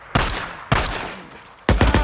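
Three sharp, loud gunshots ring out in the post-apocalyptic video game Days Gone, spaced irregularly, each with a sudden attack and a decaying tail, with no talk over them.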